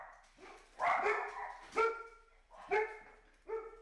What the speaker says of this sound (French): Ils sont enragés, ces chiens, qu'est-ce qu'ils ont?